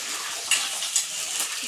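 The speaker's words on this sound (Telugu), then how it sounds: "సో పచ్చిమిర్చి వేసుకొని ఫ్రై చేసేసుకుంటున్నాం కదా" Green chillies fry in hot oil in a pan for pudina pachadi, a steady close sizzle with faint crackles and a couple of light utensil clinks.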